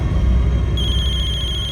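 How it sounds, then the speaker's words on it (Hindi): A telephone rings with a rapid, pulsing electronic trill that starts partway through, steady and fairly close over a low background rumble. "खबरी का फोन है।"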